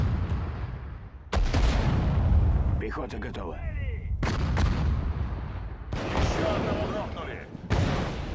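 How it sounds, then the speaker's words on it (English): Gunfire and artillery in Sudden Strike 4, a Soviet campaign battle at Kharkov: repeated sharp cannon blasts and bursts of shooting over a constant rumbling battlefield, with radio-style unit voice chatter in between. "Those guns sound so meaty."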